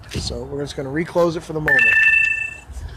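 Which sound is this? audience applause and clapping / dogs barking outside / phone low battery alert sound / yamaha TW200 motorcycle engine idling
phone low battery alert sound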